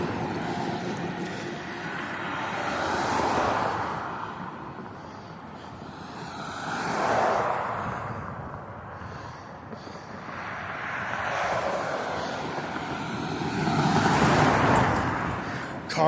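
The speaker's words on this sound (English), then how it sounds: "Hear the beautiful rhythm of cars going by." Cars pass one after another along a street, each swelling and fading in a slow rhythm of roughly four passes, moderately near.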